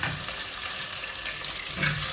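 Small onions sizzle and fry in a pan during Kerala home cooking, a steady close hiss of hot oil throughout with a faint stir or scrape near the end.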